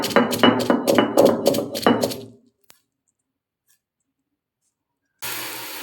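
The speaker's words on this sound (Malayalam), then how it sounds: "നമ്മളിതെല്ലാം കൂടെ വെച്ച് തോരന് ചതച്ചെടുക്കുക കേട്ടോ" Vegetables for thoran, with crushed mustard, are pounded in a quick run of about eight sharp, loud thuds, then a single faint knock, a long silence, and steady background noise resuming.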